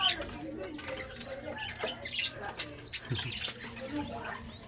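Pigeons coo softly amid fluttering wingbeats and scattered chirps, with voices talking nearby.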